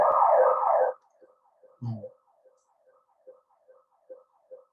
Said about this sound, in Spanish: disculpen el ruido de fondo, se acaba de activar aquí una alarma